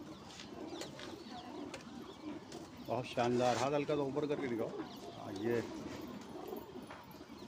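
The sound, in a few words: pigeons cooing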